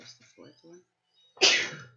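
A single loud sneeze bursts out near the end, close and sharp, following a short stretch of quiet speech.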